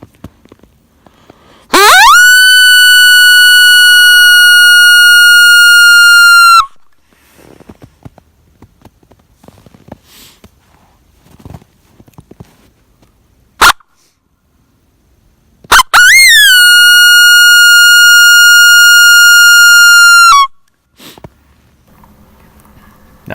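A loud electronic coyote howl call blares twice from a game caller during a coyote hunt, each drawn-out wavering howl lasting several seconds, with quiet outdoor pauses and small clicks between them.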